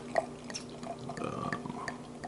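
Beer poured from a can or bottle into a glass, a short liquid splash and glug with a few drips, close and fairly quiet, running alone without talk.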